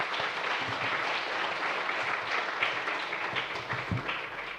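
Steady, dense applause from a church congregation welcoming a pastor to the pulpit during a Sunday afternoon worship service, sustained and fairly loud throughout with no talking over it.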